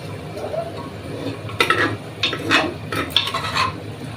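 Pressure-cooked mutton tipped from a cooker into a pot of potatoes, with scraping and clinking of a metal spoon against cookware and a faint sizzle, several close knocks in quick succession.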